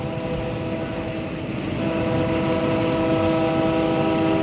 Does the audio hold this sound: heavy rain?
no